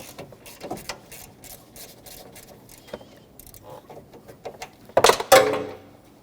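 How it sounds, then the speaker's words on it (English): A 12mm socket wrench loosens the AC condenser mounting bolt on a 2005-2021 Nissan Frontier, giving faint, irregular ratcheting clicks and metal taps that end in a louder clatter near the close. "12mm socket or wrench, and I'm going to take the mounting bolt off of that"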